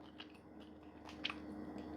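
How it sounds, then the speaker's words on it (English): Soft, close chewing of crispy buffalo wings, with a few quiet crunches and bites spread irregularly over a faint background hum, no speech. "You can hear by my crunching that it's crispy"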